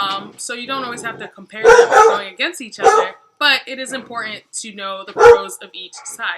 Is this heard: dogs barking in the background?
yes